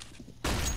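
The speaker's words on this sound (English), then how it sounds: "Throwing flashbang." A flashbang grenade goes off in a video game: quiet for nearly half a second, then a sudden loud, broadband burst that holds steady with a bright ringing whine to the end.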